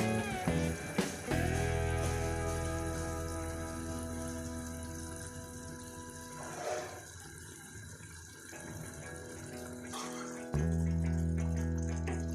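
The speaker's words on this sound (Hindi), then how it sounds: "बाकी पानी भी मैं आपके सामने शामिल करूंगी इसके अंदर।" Water is poured into a pot of rice for chicken vegetable rice in a home kitchen, a steady gushing flow that rises and falls over several seconds, with music playing underneath.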